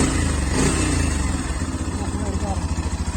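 A motorcycle engine, a first bike, runs steadily close by with a throbbing idle that settles into a pulsing rhythm.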